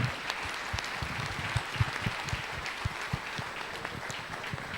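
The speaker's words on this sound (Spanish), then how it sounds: "Un aplauso al que ha creado el matrimonio, a nuestro Dios y al que nos sostiene, nos guía." Church congregation applauding together, a steady patter of many hands with distinct individual claps standing out, moderately loud and without speech.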